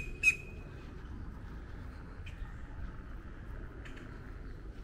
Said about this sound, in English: Got a blackbird up there making some ruckus.